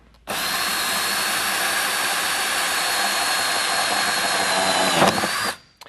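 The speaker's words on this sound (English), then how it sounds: "So I'm going to drill this out here," A power drill starts abruptly and whines at a steady high pitch while boring through material, rising briefly near the end before spinning down.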